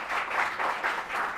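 Studio audience clapping in a TV talk show setting, a brief burst of applause swelling in a few waves, fairly close and steady.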